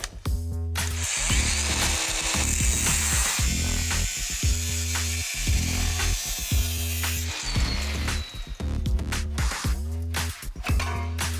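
Power tool cutting out the rear section of a Crown Vic car body, a loud buzzing, chattering motor running in repeated bursts with brief pauses, close and harsh, with metallic rattles between cuts.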